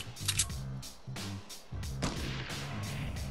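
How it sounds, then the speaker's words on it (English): Gunfire in Fortnite Season 7, several sharp cracking shots in a loose irregular rhythm, fairly close and moderately loud, with no talk. "Are they shooting at me?"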